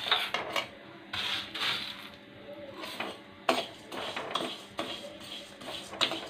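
Baby food powder ingredients being dry-roasted in a pan, stirred constantly: repeated scraping and rattling strokes of a utensil against the pan in uneven bursts, close and moderately loud, with no talking.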